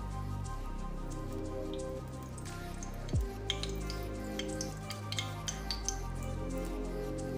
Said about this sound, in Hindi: पैन गर्म हो गया है, इसमें हम घी डाल देंगे।